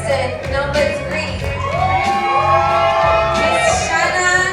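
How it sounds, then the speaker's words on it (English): A pageant audience at a Mr. and Miss finale cheers and whoops for contestant number three, a loud sustained crowd roar with shrill voices and shouts riding over it throughout. "Give a round of applause now, ladies and gentlemen, to the contestant number 3"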